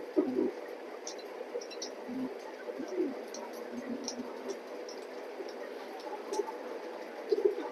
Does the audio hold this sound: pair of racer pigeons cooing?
yes